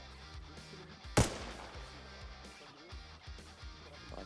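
A single sharp airsoft rifle shot cracks out during an outdoor milsim game, brief and fairly close, over a quiet low background.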